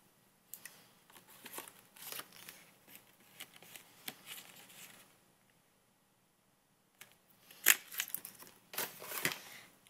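Scissors snip through paper card shapes for a handmade baby boy card, close and crisp, with short bursts of cutting clustered in two groups separated by a quiet pause.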